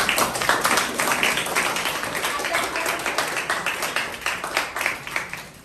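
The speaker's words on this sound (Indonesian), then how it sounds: "Oke, terima kasih tepuk tangan." A classroom of students clapping their hands, a moderately quiet patter of scattered claps that grows into brief rhythmic bursts, with voices talking beneath.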